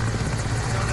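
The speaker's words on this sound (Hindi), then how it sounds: "एयरफोर्स के हेलीकॉप्टर ने इस शख्स को एयरलिफ्ट किया।" Air force rescue helicopter airlifting a man stranded in a flooded river in Rajouri, Jammu and Kashmir, heard as a steady, loud rotor and engine drone with a low throbbing hum, no voices.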